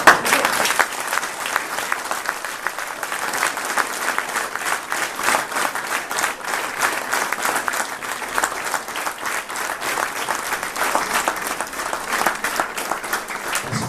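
A crowd at a town hall reception applauds volunteers, with steady, dense clapping that carries on for the full stretch without letting up, loud and close, and no voices standing out.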